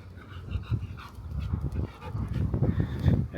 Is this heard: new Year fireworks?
no